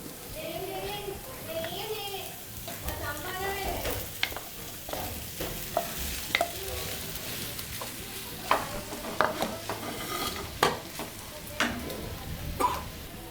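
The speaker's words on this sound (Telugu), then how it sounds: "ముందుగా స్మాష్ చేసుకున్న ఆలుగడ్డ మిశ్రమాన్ని ఇందులో వేసుకోవాలి." Mashed potato mixture stirred and fried in a pan for bread bonda, giving low sizzling with repeated scraping and clinking strokes, louder toward the end, over a background of faint children's voices.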